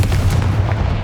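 The Bombarda blasting spell from the game Hogwarts Legacy goes off as one short, loud booming burst with a deep rumbling low end, heard alone without voices.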